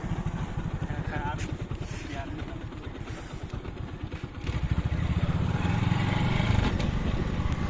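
A motorcycle engine chugs with a steady close putter, then revs louder and rougher halfway through, as a new rider gets stuck on a track through a rubber plantation.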